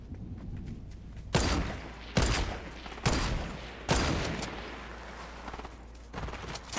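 Gunfire in the Fortnite video game: several loud, sharp shots ring out about a second apart, each with a decaying tail, over a low steady game background.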